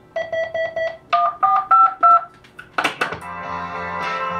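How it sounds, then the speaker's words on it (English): A 1947 RCA Victor intercom phone dials through a field coil speaker: a series of short beeping tones in even groups, then a brief ringing burst and a steady hum, fairly loud and close. "That's the intercom system."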